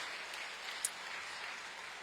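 Church congregation applauding during a Sunday service, a broad, steady patter of clapping from a crowd spread evenly across the whole moment at moderate distance, fairly soft, with no voice over it.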